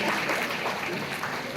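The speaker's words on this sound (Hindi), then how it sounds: "तालियां बजाकर, जोरदार तालियां बजाकर स्वागत करें" Brief burst of audience applause welcoming guests at a speaking event, a steady broadband clatter of many hands filling the short span without a break.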